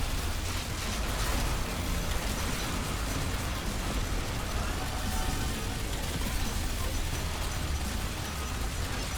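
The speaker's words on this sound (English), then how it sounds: "Ooh, that was a big explosion." A big explosion in the zombie survival shooter Zombies Re-Reloaded / Zombie Survivors, heard as a dense, sustained roaring blast of wideband noise that stays loud and steady for the whole stretch.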